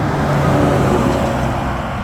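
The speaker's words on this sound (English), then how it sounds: "1 car, 2 car, actually trucks." Cars and trucks pass on the road in loud, continuous broadband traffic rumble that swells slightly and stays steady, with no talk.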